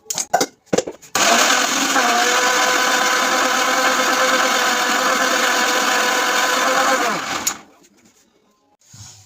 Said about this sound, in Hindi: इधर ये टमाटर अभी पीसूंगी